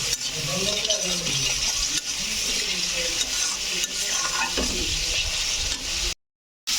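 Turmeric and spices stir-fry in a pan for a fish-head and Malabar spinach ghonto, giving a continuous close sizzle with scraping stirs and a faint voice underneath, cut briefly by a short silence near the end.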